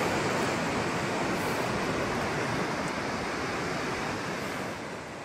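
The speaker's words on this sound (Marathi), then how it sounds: "वॉटरफॉल." Rushing water from a waterfall by a river along the Narmada parikrama route forms a steady, dense roar that holds evenly for the whole stretch with no voices.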